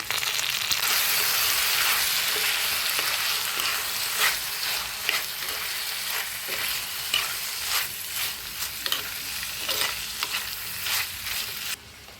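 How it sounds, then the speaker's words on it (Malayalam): Prawns and potatoes sauté in a pan for a Kerala-style prawn theeyal: a bright sizzle runs under repeated rhythmic scraping strokes of a spatula, close and steady for several seconds before cutting off, with no one speaking. "ഇതിലേക്ക് നമ്മൾ എടുത്തു വെച്ചിരിക്കുന്ന കൊഞ്ചൂടി ഇട്ട് രണ്ട് മിനിറ്റ് ഒന്ന് വഴറ്റിയെടുക്കാം"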